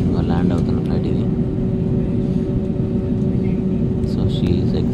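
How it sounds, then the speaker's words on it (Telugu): An airplane lands on a runway, a loud, steady engine roar with a sustained low drone that persists throughout, while people talk faintly in the background. "ల్యాండ్ అవుతున్న ఫ్లైట్ ఇది."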